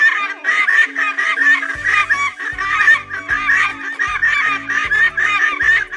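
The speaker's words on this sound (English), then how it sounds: "guinea fowl" A guinea fowl calls in rapid, harsh, repeated cackling bursts, close and loud, in a steady rhythm over faint low background tones.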